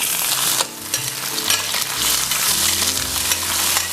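Chorizo and peeled shrimp fry in a pan with a loud, continuous sizzle, close up, broken by scraping and clinking of a utensil stirring through the pieces; no one speaks.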